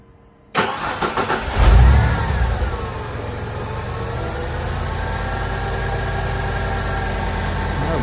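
After a short quiet moment, a Ford Econoline van's engine cranks and catches with a loud burst, then settles into a smooth, steady idle that holds for several seconds, near and unaccompanied by talk.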